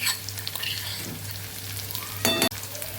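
Green chilies and garlic paste sizzling in hot oil for a ridge gourd and potato curry, a steady crackling fry with a brief loud hissing burst near the end that cuts off abruptly.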